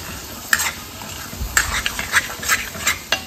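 Spice paste with asafoetida, fenugreek seeds and a bay leaf frying in a pan for chole bhaji, soft sizzle under a series of sharp spoon scrapes and taps, close and unhurried with no talking.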